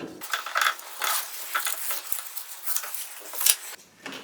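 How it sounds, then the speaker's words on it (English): A ratchet works on a brake caliper bolt on a C4 Corvette, giving a few seconds of irregular metallic clicking and scraping bursts, close and fairly quiet, with no talk. "We're just going to go ahead, remove that bolt."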